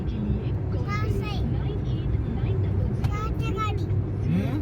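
A car speeds along a road at night during a heavy downpour, its steady engine and tyre roar running continuously beneath people talking throughout.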